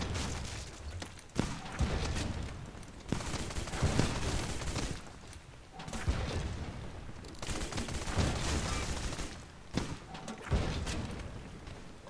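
Cannons firing from a ship in the pirate video game Blazing Sails, making a dense, continuous barrage of booming shots and rumbling blasts in overlapping bursts.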